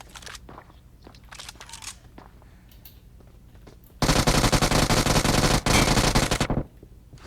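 In the online shooter Wolfteam, a loud, continuous burst of rapid automatic gunfire lasts about two and a half seconds and then stops abruptly, after quieter clicks and game sounds.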